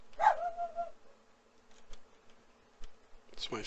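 A friend's dog lets out one short bark inside the house, faint and off in another room. Quiet clicks and a low hum follow, with a brief rustle at the end.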